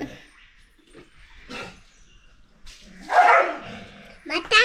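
A dog being bathed barks and yelps a few times close by, mixed with people's voices and some splashing in the background.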